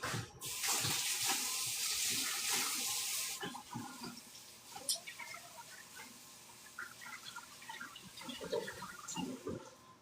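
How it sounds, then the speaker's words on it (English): Running tap water rinsing a knife in a home kitchen while cooking a plant-based dinner with okra; a loud steady stream for the first few seconds, then softer trickles, splashes and clinks. "Let me rinse my knife."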